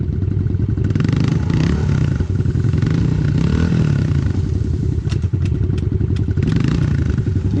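A 2022 110cc pit bike engine runs loud and close, with revving surges, clattery mechanical thumps and brief sharp clicks.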